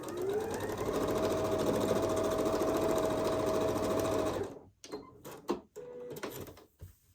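A sewing machine stitching quilt patches into a four-patch block runs loud and steady for about four seconds, then stops, leaving a few brief clicks and handling sounds.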